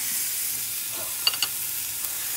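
Close, steady hiss of a swordfish steak frying in a hot pan, with a couple of brief sharp clicks partway through and no talking.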